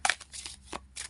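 Tarot cards shuffled for a reading, a few quick riffling bursts close to the mic, crisp and fairly quiet, with no talking.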